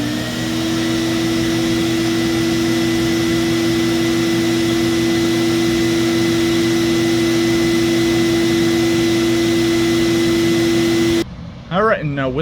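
A Black and Decker CA1440 vacuum cleaner runs at full power with its power nozzle unplugged, a loud, steady close-up drone with a constant whine that stops abruptly near the end.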